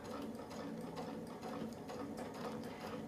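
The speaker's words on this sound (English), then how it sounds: "And this one I will sew down and up." A sewing machine stitching quilting lines along a ruler template, its needle mechanism chattering in a fast, steady mechanical rhythm, close and continuous with no talk.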